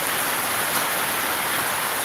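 Steady rain falls outside a shop, a dense, even hiss that holds unchanged and fairly loud for the whole short stretch, with no voices over it.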